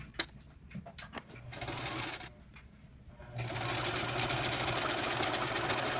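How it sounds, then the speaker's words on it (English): A sewing machine stitches the leg of towel pants. It runs in short bursts of rapid mechanical whirring, pauses briefly, then settles into a longer steady hum of stitching, close and moderately loud. "Now we're going to sew the leg."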